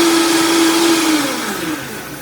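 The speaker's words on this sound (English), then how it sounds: "we blend it up right in the blender" A kitchen blender whirs loudly through carrot cake wet ingredients, a steady motor drone with its pitch sliding slightly downward and easing off toward the end, with no talking.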